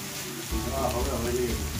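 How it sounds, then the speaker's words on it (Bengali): Potatoes frying in oil tempered with cumin and dried chilli, a steady close hiss and crackle rising after a brief quiet start, with faint voices nearby. "জিরে, শুকনো লঙ্কা ফোড়ন দিয়ে আলু ভাজা হচ্ছে।"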